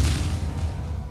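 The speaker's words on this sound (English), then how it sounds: "He got artillery strike." An artillery strike explodes in a video game, a short, dense, rumbling low boom that fills the whole moment, heavy and close.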